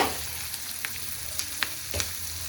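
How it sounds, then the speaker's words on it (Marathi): Capsicum, onion and garlic frying in a pan for gobi manchurian give a steady, close sizzle, with a few sharp spatula clicks and stirring scrapes spread through it. "छान फ्राय करून घेते."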